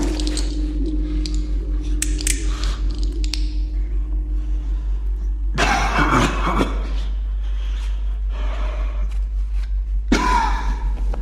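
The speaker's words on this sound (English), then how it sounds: "Metallic clicks, coughing, the sound of pages being turned in a book." A mysterious recording of metallic clicking, coughing and book pages turning, with a steady low hum underneath; thin clicks come first, then two loud rough bursts and a rustling page turn, close up.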